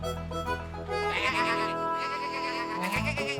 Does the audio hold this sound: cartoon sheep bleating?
yes